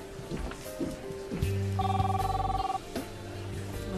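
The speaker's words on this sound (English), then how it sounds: "Must be Luisa's phone." A telephone rings in an indoor scene, its electronic tones sounding once in a bright burst partway through while voices and background noise continue around it.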